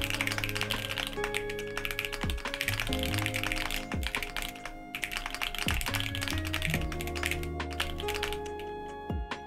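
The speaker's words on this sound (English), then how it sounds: "I'm just like pressing really hard on the keys" Computer keys struck hard and fast during a tense game session, a dense run of sharp clicks and taps close up over steady background music and game sounds, with no voices.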